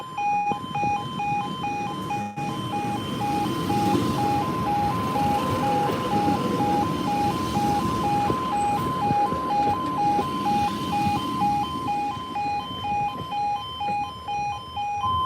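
Railway level crossing alarms at Hykeham, with steady repeating two-tone warning notes sounding loud and continuous throughout, over a low rumbling background.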